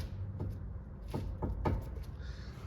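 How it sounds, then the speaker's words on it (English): Several dull knocks come from a worn front lower driver's side ball joint as the wheel is shaken by hand, irregular thumps at close range over a low background hum. "making a knocking noise that easy, that ain't right."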